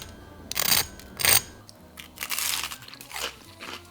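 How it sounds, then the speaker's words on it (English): A fork crunches into shallow-fried panko-breaded tofu, several sharp, crisp crackling bursts close up, separated by short pauses, with no talking. "let's do a fork and crunch test"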